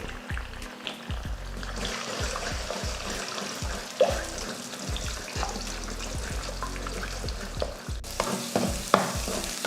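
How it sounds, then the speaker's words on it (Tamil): Three eggs fry in shallow leftover oil in a pan that earlier cooked okra, giving a steady close sizzle and crackle with occasional spatula scrapes and stirs. "அதில் 3 முட்டையை போட்டு அதையும் வறுத்துடலாம்"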